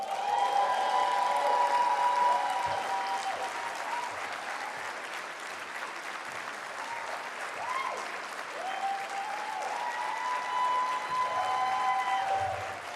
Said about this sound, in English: With a resounding round of applause, please welcome Anna Ekeledo.